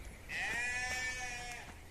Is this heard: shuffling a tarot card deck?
no